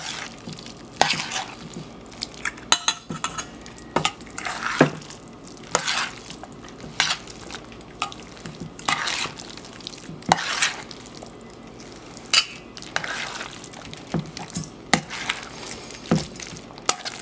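Potato croquette mixture with egg is stirred in a bowl. Soft wet scraping and irregular clacking of the utensil come close and fairly quiet, with no talk.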